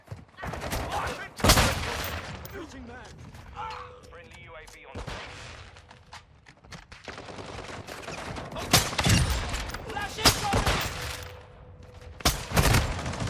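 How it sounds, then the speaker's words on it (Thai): Rapid bursts of machine gun fire in Call of Duty Warzone 2, loud and repeated across the stretch with sharp peaks and a few heavier booms, over a steady game background. "ใครมันใช้ปืนกลวะ"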